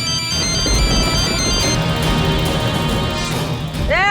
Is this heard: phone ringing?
yes